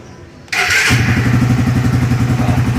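A Suzuki R150 motorcycle with a freshly tuned carburetor fires up on the first try, a loud burst of starter and combustion settling at once into a steady, close, pulsing idle.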